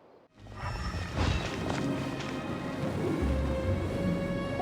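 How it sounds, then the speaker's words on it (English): A steady roar of rain and wind with low rumbling thunder surrounds a storm barrier in a Genshin Impact cutscene, rising suddenly after a brief hush and continuing dense and unbroken. "It's a storm barrier."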